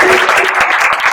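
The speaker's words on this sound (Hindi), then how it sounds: "तालियां रुकनी नहीं चाहिए" An audience at a Hindi-day gathering at the Indian consulate in Seattle applauds loudly, a dense and continuous burst of clapping.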